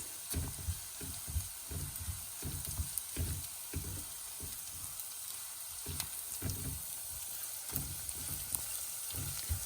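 Garlic and fenugreek seeds sautéing in a pan, a steady fine sizzle with soft stirring scrapes in an irregular rhythm, close and moderately quiet, no voices.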